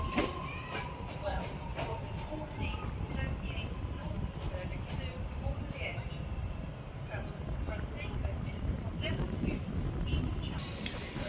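A Northern passenger train pulls into Manchester Piccadilly station, a steady broad rumble with metallic clicks and squeals from the wheels, while a voice talks over it.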